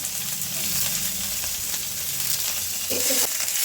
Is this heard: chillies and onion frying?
yes